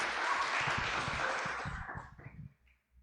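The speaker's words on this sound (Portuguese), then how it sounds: "Vamos aplaudir o Senhor?" Applause from a church Bible-study class, a dense, steady clatter of many hands that fills most of the moment before thinning and fading out near the end.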